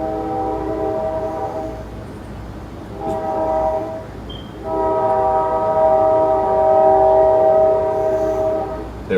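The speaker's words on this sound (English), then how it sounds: "Ah, that train. Comes at the best time, doesn't it?" A passing train sounds its horn in long, loud, sustained blasts, one short, one brief and one extended, over a steady rumble of rolling cars.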